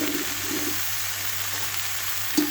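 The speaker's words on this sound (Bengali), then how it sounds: "সবজিগুলো হালকা ভাজা হয়ে গেছে, তো আমি এখন বেগুনটা দিয়ে দেবো।" Eggplant dropped into a pan of lightly fried vegetables, giving a steady, dense sizzle of hot oil throughout with a low hum beneath and a small clink near the end.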